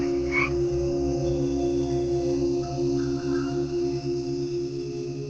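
Frogs croak in a steady, dense chorus in a damp rainforest during rain, their layered calls sounding close and continuous throughout with no voices present.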